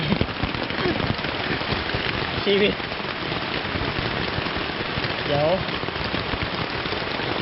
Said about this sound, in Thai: ฝนตกนะครับ